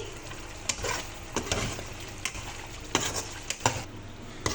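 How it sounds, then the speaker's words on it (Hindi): Chicken with black pepper and garam masala being fried on high flame in a pan, a close crackling sizzle punctuated by repeated sharp scrapes and clanks of a spoon against the pan. "और अब मैं हाई फ्लेम करके इसकी अच्छे तरीके से भुनाई करूँगी।"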